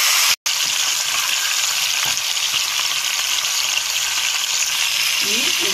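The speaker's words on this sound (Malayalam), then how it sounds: "ഇതിലേക്ക് നമ്മൾ ചിക്കൻ ഒന്ന് വെച്ച് കൊടുക്കാം. ജസ്റ്റ് ഒന്ന് ഷാലോ ഫ്രൈ മതി." Chicken shallow frying in hot oil in a home kitchen, a loud steady sizzle and crackle filling the whole stretch after a brief cut near the start.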